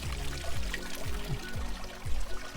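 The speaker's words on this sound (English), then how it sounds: "There's this little water feature over there dripping down." A small water feature trickles steadily into a hot spring pool in New Mexico with mountains behind, a continuous close splashing flow with soft recurring low surges.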